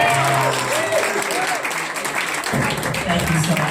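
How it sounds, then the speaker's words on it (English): An audience at a book launch claps steadily, a dense patter of hands that carries through the whole stretch with a voice faintly speaking beneath it. "A big round of applause for Dini Petty."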